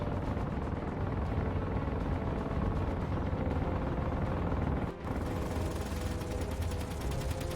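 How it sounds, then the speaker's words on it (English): Gunfire in the space game Space Engineers rattles as a continuous, dense mechanical roar with steady rapid pulses, loud and unbroken apart from one brief dip, with no voices. "Oh, gunfire!"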